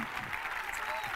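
Brief burst of crowd clapping at a basketball team's official presentation in Pesaro, dense and even, with a faint whistle and voices mixed in.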